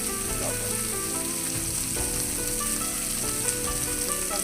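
Leftover rice with vegetables and turmeric frying in a pan, a dense, loud, continuous sizzle with faint stirring scrapes underneath and no one speaking.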